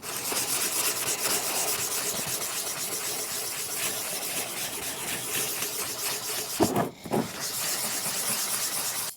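Steady, continuous hand sanding with finer grit paper on the air cleaner bowl of a 1943 Case SC tractor, an even close scratchy rubbing hiss that briefly pauses near the end before resuming.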